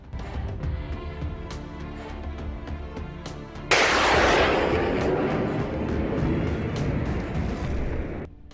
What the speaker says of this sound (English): The footage shows a number of explosions occurring along the battlefield as targeted missiles destroy roughly a dozen vehicles.